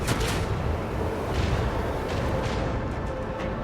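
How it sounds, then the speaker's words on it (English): Ship's gun salvo in Rogue Trader fired at a station turret, a dense, continuous rumble of booms and blasts filling the whole stretch with no quiet gaps. "I guess I will just take a shot at this random turret. Another salvo!"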